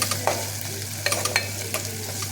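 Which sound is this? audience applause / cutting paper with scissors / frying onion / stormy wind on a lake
frying onion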